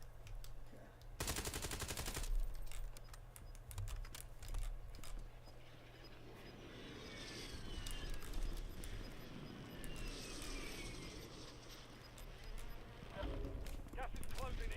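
Call of Duty Warzone gunfire crackles in bursts through a busy, low-level soundscape with a steady background hum and scattered distant shots, while players talk over it.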